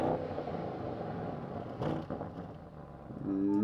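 Audi RS7 Performance 2023 engine idling with a steady low rumble, near and continuous, then a brief rise in revs near the end; European regulations limit the revs.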